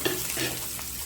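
Onion and green chili sautéing in a pan of oil just after mustard seeds have popped, a steady close sizzle with stirring scrapes through the short stretch, no talk.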